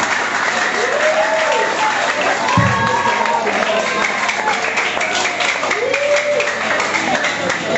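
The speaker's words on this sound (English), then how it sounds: "Please can we clap for all of them?" Sustained applause from a crowd rewards the speakers at a formal debate on robot versus human lawyers, a continuous wash of clapping with voices talking over it.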